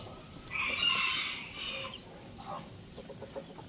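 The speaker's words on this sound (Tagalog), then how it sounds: "Ito yung tandang natin." A Rhode Island Red rooster crows once fairly faintly, with soft clucks and small calls from chickens and chicks following in the background.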